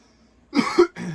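Two quick, close dry coughs from a man, loud and abrupt, the second following right after the first with a short gap.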